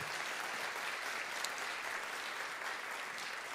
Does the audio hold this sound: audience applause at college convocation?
yes